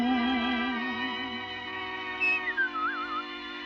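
A whistled imitation of a bobolink's tune, with wavering trills and sliding notes carried over sustained orchestral music, alone without speech.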